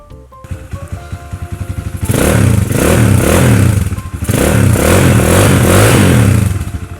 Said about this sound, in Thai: มาฟังเสียงท่อกันเลย